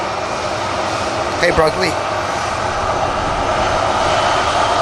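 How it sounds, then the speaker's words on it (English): An EasyJet airliner departing for Paris roars steadily in the middle distance at an airport, a broad continuous engine rumble with a brief spoken greeting over it. "EasyJet heading out to Paris"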